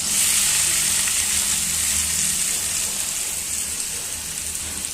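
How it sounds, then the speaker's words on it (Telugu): Chopped onions dropped into hot oil, a loud, steady close sizzle and crackle filling the pan with no talking. "నూనె హీట్ ఎక్కిన తర్వాత కట్ చేసిన ఆనియన్స్ వేసుకోవాలి."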